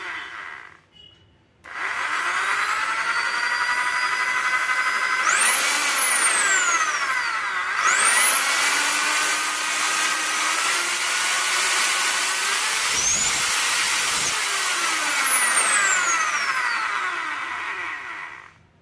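A Bosch GSB 500RE electric drill machine running continuously with a loud, steady high-pitched whine. The motor starts after a brief pause and its pitch shifts as the speed changes.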